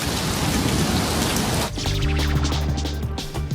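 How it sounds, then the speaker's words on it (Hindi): Heavy rain mixed with hail pours down on the city of Turin, Italy, a dense, loud hiss of drops and pellets striking surfaces, with low rumbling and a brief shift in texture partway through. "ट्यूरिन शहर में बारिश के साथ गिरे हैं ओले।"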